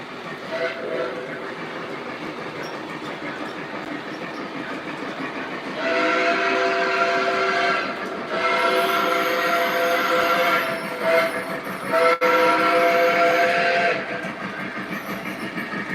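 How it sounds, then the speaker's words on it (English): Lionel model streetcar running on a toy train layout, a continuous rolling rail hum with whistle-like tones rising and falling in bursts, moderately loud throughout. "We got to get our streetcar running."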